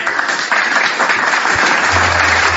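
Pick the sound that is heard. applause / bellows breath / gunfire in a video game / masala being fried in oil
applause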